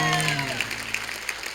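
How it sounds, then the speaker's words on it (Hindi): A comedy talk show studio audience breaks into brief, loud clapping, a short burst that follows the tail of a voice and carries on sharply to the end. "जोरदार तालियां चंदू के लिए"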